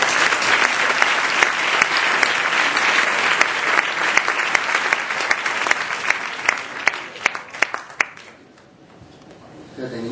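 Sustained applause fills a hall at a national marketing awards ceremony, a dense crowd clapping loudly for several seconds before tapering off near the end.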